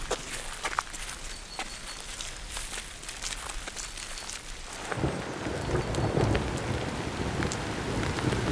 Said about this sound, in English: we're getting rained on very heavily right now.